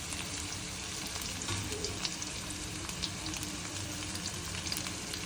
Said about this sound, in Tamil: இது நல்லா பொரிஞ்சு வரட்டும்